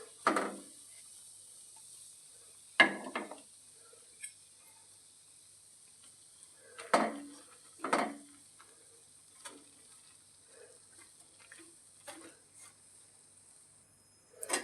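Wheat flour roasting in hot ghee for laddoos, stirred in a pan: sparse, quiet scraping strokes and a few louder knocks of the spoon against the pan, with long near-silent gaps.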